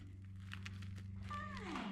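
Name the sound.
cat meowing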